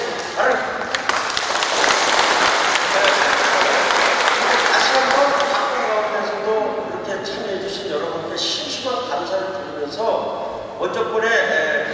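Applause from attendees at an agricultural cooperative members' training session, dense clapping that swells then thins out, with a voice speaking over the later part.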